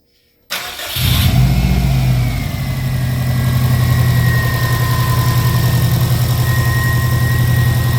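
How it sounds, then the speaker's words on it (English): A 2.0-litre bugeye Subaru Impreza WRX wagon cranks and fires after a short silence, then settles into a loud, steady close-up idle with a constant low rumble and a faint whine. "let me start up the engine and you guys can listen to it"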